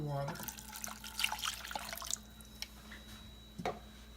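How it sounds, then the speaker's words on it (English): Water runs and splashes into a cooking pot in a kitchen, a short uneven pour with drips that tapers off, followed by a few faint clinks. "Now we'll add the water."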